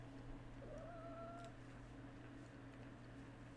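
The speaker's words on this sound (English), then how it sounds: "There's a kitty honey over here who's being a kitty honey." A pet cat meows once or twice indoors, a short rising-then-falling call near the start, followed by a steady low background hum with no talking.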